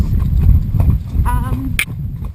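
Hooves of a cob clip-clop steadily on an off-road track as it is ridden, close and clear, with voices speaking over the rhythmic footfalls and a short whinny-like sound near the end.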